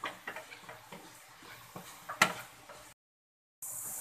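Spiced black chickpeas are stirred in a pan with a spoon, giving a string of soft scraping clinks and one sharper knock, then brief silence before a hiss resumes.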